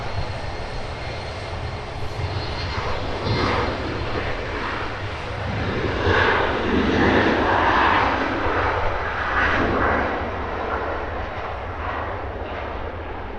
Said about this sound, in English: Nice steep climb out from the Embraer